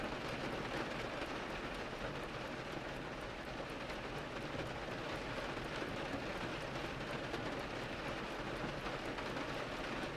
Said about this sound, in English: trickling down the storefront windows with a rushing, crackling sound